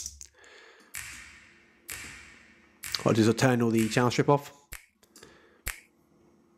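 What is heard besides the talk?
snap percussion sample from Function Loops tropical house pack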